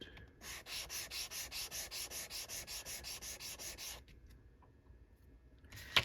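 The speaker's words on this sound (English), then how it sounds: "And this is 600 grit sandpaper" Rhythmic back-and-forth strokes of 600 grit sandpaper working a 1911 pistol front sight, about a dozen even rubs close up before stopping, then quiet handling noise.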